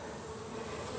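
Honey bees buzz around an open hive during a queen replacement inspection of a struggling colony, a steady, close, continuous drone filling the whole moment with no voices.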